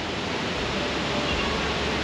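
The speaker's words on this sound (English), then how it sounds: "It's a waterfall!" A waterfall in Montenegro, seen while sailing, gives a steady, even rush of falling water, a continuous broad hiss at moderate volume with no voices in this stretch.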